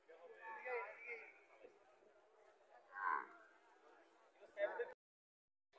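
A native dairy cow at a cattle market lows a few times, with fainter distant moos, amid a low market murmur before the sound cuts off abruptly near the end.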